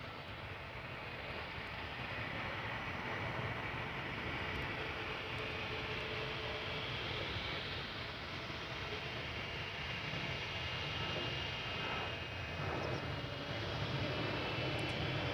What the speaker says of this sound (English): further up in the distance is an Embraer 175 from KLM going to Aberdeen